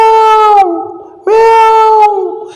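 A person's voice imitates a cat's meow twice, giving two drawn-out, wavering meows separated by a short pause, loud and close.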